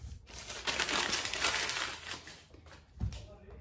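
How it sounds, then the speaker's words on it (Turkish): A plastic bag is crumpled and rustled in a tailoring workshop during evening-gown alterations, giving a loud, steady crinkling for about two and a half seconds, then a short final rustle. "Müşterimizin poşetini koyalım."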